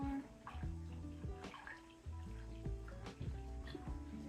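Water pours steadily into a tube feed bottle, filling it toward the 900 ml mark, with a continuous trickling splash over a soft tonal background hum and no voice.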